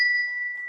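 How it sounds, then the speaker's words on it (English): A single bright bell rung loudly up close, its clear sustained tone ringing steadily through the brief moment with faint higher overtones. "Gotta end a stream on a loud bell."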